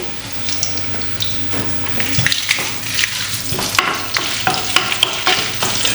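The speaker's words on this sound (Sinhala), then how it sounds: "සුදු ලුණු ටික හොඳට බ්‍රවුන් කලර් වෙන්න ෆ්‍රයි වෙනවා" Garlic frying in a pan until brown, a close, lively sizzle with frequent clattering stirs and scrapes of the utensil, steady and without talk.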